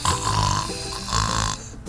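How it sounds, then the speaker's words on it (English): A grandmother snores loudly and close, with two long rasping snores in a steady rhythm, the second one trailing off at the end. "I think it's Granny starting to snore."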